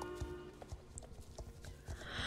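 Horse hooves clip-clop in the video game Star Stable Online, a quiet regular walking rhythm of soft thuds over faint background game music.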